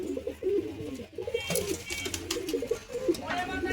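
Pigeons in a fancier's loft give low, rolling coos that repeat close by throughout, mixed with wing flutters and soft bird noise while someone talks over them.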